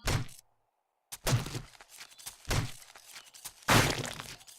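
A melee weapon hacks repeatedly in 7 Days to Die, four heavy thudding chops with cracking impacts spaced about a second apart, close and punchy, with a brief gap of silence after the first blow.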